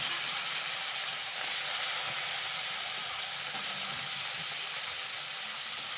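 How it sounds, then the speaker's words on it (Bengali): Crabs frying in hot oil in a home kitchen for a spicy Bengali crab and potato curry, a steady loud hiss and sizzle that continues unbroken throughout, with no talking. "এবার ওই তেলে বাকি কাঁকড়াগুলো দিয়ে দেবো, দিয়ে ভালো করে ভেজে তুলে"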